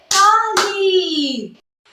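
Two sharp hand claps land close together at the start, then a high child-like voice rings out over them and fades before a short silence.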